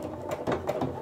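A sewing machine stitches a free motion quilting curve, a close, steady mechanical hum and rhythmic needle chatter pulsing for about a second.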